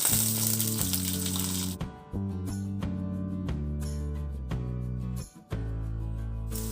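Raw ginger and turmeric sizzle in hot tempering oil, a steady close frying hiss with brief pauses as the pan is stirred.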